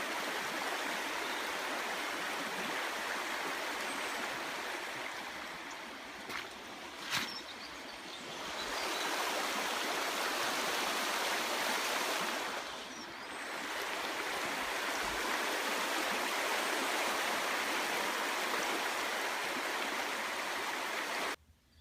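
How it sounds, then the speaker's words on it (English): A shallow river flows steadily at a wild camping spot, a continuous close rush of water that briefly dips twice, with no talking. "Well, I've made the river crossing."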